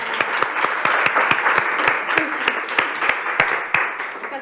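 Applause from the audience at a plenary meeting: steady, dense clapping for about four seconds, fairly close and even, with no talk over it.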